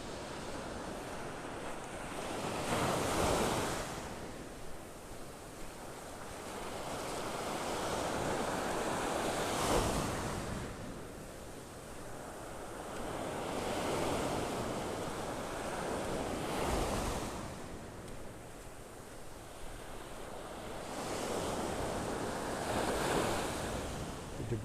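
Waves roll in and break on a beach in North Naples, Florida, in slow swells every several seconds, with steady wind buffeting the microphone between them.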